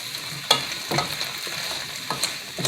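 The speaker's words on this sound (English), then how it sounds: "just keep stirring with your onions and your garlic" A spoon scrapes and stirs through onions, garlic and tomatoes in a soup pot for vegan tomato basil soup. Several distinct stirring strokes come close and clear over a steady soft sizzle.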